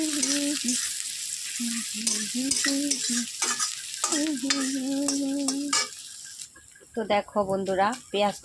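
Onion and garlic fry in a pan with a soft sizzle and stirring scrapes, nearby and under a voice talking.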